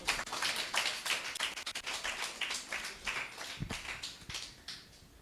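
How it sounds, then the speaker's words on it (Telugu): A congregation claps hands during a watch night church service, a busy stream of sharp, overlapping claps at moderate loudness with a brief low thump near the end. "చప్పట్లు కొట్టాలి."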